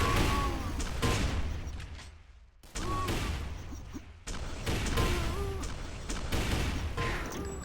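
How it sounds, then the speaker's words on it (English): Rifle and machine gun fire from mechs battling in a video game, bursts of sharp gunfire crackling throughout, some rapid strings, fairly loud and close. "Finishes it off with the MG."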